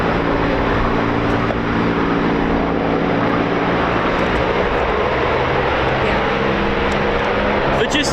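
A Eurofighter Typhoon FGR4 jet at RAF Coningsby roars loudly and steadily, a dense broadband engine rumble filling the full eight seconds with no gaps.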